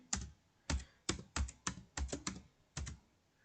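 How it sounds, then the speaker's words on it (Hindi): Computer keyboard keys are typed while values are entered, about nine separate sharp clicks in an uneven rhythm, quiet and close against a silent background with no talk. "सपोज मैंने कोई भी वैल्यू एंटर कर लेते हैं कीबोर्ड से"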